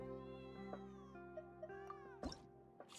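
A cat meows repeatedly in short, distinct cries over a steady background of video game music, with a louder cry near the end.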